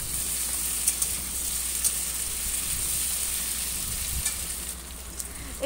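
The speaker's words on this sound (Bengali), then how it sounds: "এবারে ওলটা খুব ভালো করে 2 থেকে 3 মিনিট ভেজে নিচ্ছি" Chunks of elephant foot yam fry with salt and turmeric in a pan, making a steady, close sizzle with occasional crackles and stirring scrapes.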